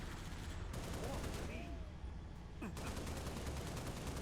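Gunfire in the Halo: Reach video game, bursts of rapid automatic fire that start and stop, heard fairly faintly under steady game background noise, with sporadic talk.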